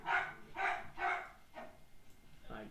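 A pet dog barks in a row of three quick, fairly loud barks with a fainter fourth and fifth trailing off, at moderate distance indoors.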